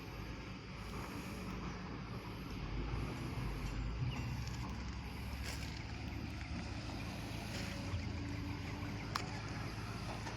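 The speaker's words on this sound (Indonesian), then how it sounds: "Itu takbut buat narik tongkang." A tugboat towing a barge near a dock, with a steady low engine rumble and water noise mixed with wind buffeting the microphone throughout.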